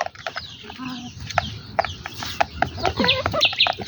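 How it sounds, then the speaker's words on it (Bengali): Desi hill chickens on a hillside farm, with a rapid series of close clucks and short squawks, dense and uneven, in an outdoor setting. "অনেক সুন্দর এই যে পাহাড়ি মুরগিগুলো"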